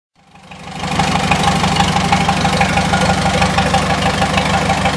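A 1953 Farmall Super H tractor engine, its carburetor just adjusted, starts up and settles into a steady, close, loud idle with a lumpy knocking pulse and no stumbling over five seconds.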